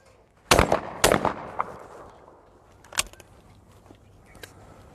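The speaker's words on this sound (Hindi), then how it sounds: "अब मैं 2 शॉट्स फायर करने वाला हूँ। 2 टारगेट जाएंगे, ध्यान रखिएगा।" Shotgun fired twice in quick succession at clay targets on a shooting range, two sharp loud bangs about half a second apart with a fainter distant report later, no speech.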